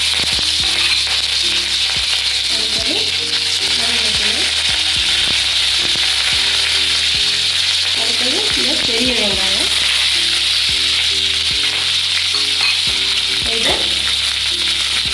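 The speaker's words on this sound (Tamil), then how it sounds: "அடுப்பை குறைச்சி வச்சு போட்டு மேலே தெரிக்காமல் பச்சை மிளகாய்" Green chillies fry in oil over a low flame while an eggplant and potato dish is being made, giving a loud, continuous, close sizzle. Faint utensil knocks and a low tonal hum run underneath.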